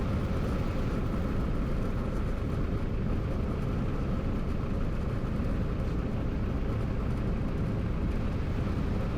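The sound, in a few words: light aircraft engine at idle during a slip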